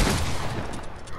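Rapid gunfire in a 1v1 video game match, a dense loud burst of shots running the whole short moment without pause and without talk.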